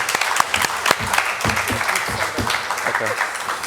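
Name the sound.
audience applause at a candidate forum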